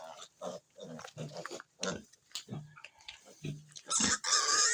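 Pigs in a farm pen grunt and squeal in short, choppy bursts close by. Chicken-like clucks mix in, and a louder, shrill squeal comes at the end.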